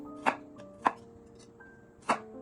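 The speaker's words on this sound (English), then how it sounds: "Julienne it into very thin matchsticks." A knife julienning a carrot into thin matchsticks for fresh shrimp spring rolls strikes the cutting board three times, crisp and close, with uneven gaps and a faint tone humming underneath.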